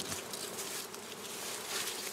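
Dense swarm of bees buzzing continuously around hives being cleaned before moving them to another plain for transhumance, a close, steady hum with no voices.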